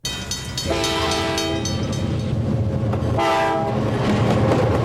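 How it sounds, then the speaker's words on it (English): A circus train rolls along the rails with a continuous rumble and clatter, and two loud horn blasts sound, one near the start and another about halfway through. "this circus train, which snakes through the same land the early Ringling Wagon circuses did"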